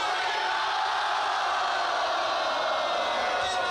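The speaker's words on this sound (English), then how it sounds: "The jubilant crowd celebrated by chanting Fuyo" A jubilant crowd chants the catchphrase "Fuyo" at a celebration, a dense, continuous mass of voices that sounds like an energetic cheer, loud and sustained throughout.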